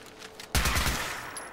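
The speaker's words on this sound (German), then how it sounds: "Hey, zwei mit einem Schuss." Gunfire in the video game Fallout 4, a sudden loud burst of rapid shots with a rumbling tail that fades over about a second, with no talk.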